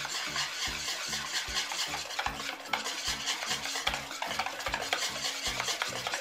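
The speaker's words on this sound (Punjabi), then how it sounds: "ਹੁਣ ਆਪਾਂ ਇਹਦੇ ਉੱਪਰ ਥੋੜ੍ਹਾ ਜਿਹਾ ਦੁੱਧ ਪਾਉਣਾ ਚਮਚਾ ਕੁ, ਅਤੇ ਨਾਲ ਦੀ ਨਾਲ ਆਪਾਂ ਇਹਨੂੰ ਮਿਕਸ ਕਰ ਦੇਣਾ" A spoon stirs cake batter made with Eno and milk in a bowl, giving a steady, rapid rhythm of close, repeated scraping strokes with a faint fizzing hiss underneath.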